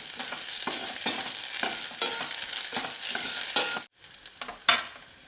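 A spoon scrapes rhythmically through ginger paste sizzling in a pan, repeated stirring strokes over steady frying crackle, close and fairly loud.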